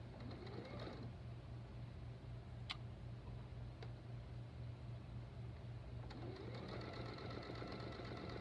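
A sewing machine sews a quarter inch seam in quick bursts, with a whirring run at the start and again near the end, soft ticks in between, faint and steady.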